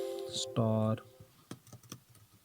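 A few light clicks of typing on a computer keyboard follow a brief spoken tone, the keystrokes soft, close and irregularly spaced.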